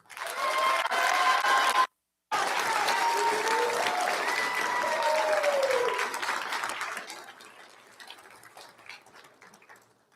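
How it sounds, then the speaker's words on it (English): Applause from an audience at a school board of trustees meeting rises quickly, runs steadily for several seconds, then thins out and fades, with scattered voices and a cheer mixed in. "Big round of applause for Matthew Lurley"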